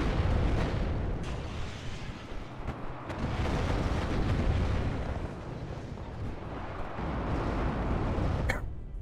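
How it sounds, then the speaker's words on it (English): Sustained autocannon fire and booming impacts in the Cold War strategy game WARNO, dense rolling bursts and explosions filling the whole stretch at moderate level, with a sharp crack near the end. "they just destroy with those autocannons"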